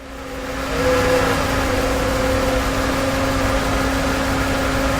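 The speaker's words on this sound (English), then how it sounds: "Pretty fast change in the pump RPM." A John Deere sprayer pump speeds up, its whine rising over the first second and then holding at a steady, loud drone with a constant tonal hum over broad machine noise.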